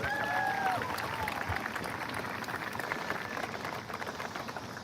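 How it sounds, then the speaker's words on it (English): An audience at a marching band ice cream social applauds the announced band staff, a dense burst of clapping that starts loud and slowly thins out. "we're going to clap for them after I announce them"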